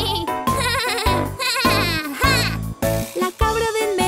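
A goat bleats in a Spanish-language children's story: repeated loud, wavering bleats in quick succession, close and prominent.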